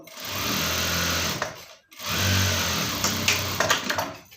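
An electric sewing machine stitches a ready-made top with matching thread, running in two steady whirring bursts separated by a brief pause, the second ending with a few uneven clacks.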